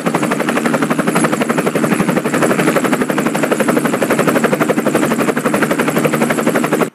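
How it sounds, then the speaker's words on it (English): A police helicopter flies close overhead with a loud, steady rotor chop, its rapid even pulses running unbroken until they cut off at the end. "Why is there a police helicopter in front of the school?"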